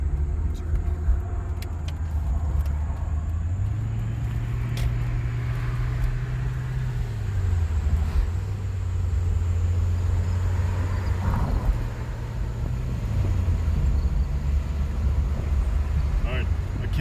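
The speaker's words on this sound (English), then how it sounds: "can't tell if it's surging or if it's just doing that thing where it can't decide what gear it wants to be in" A car engine drones while driving, its low pitch rising and falling in uneven surges as if the throttle or gearbox can't settle, with a voice at times over the rumble.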